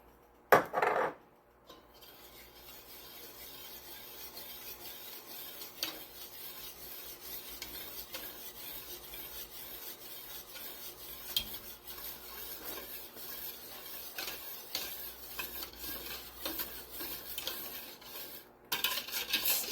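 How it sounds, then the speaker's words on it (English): A whisk scrapes and rasps in a pot as seasonings including white pepper are worked into a roux for broccoli cheddar soup, a steady rhythmic scratching after a brief clunk at the start. "I'm just going to go ahead and sprinkle that in so I can whisk the seasonings in to the roux"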